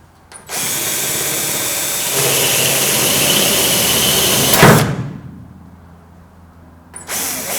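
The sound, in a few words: drill with a hole cutter cutting into metal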